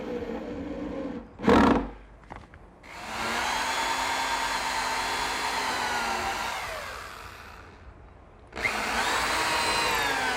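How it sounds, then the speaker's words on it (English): A power drill drives screws through a plywood backsplash into a workbench counter: a short burst, then a long steady whirring run that tapers off, then another run starting near the end, close and clear. "I'm putting 4 screws in through the back"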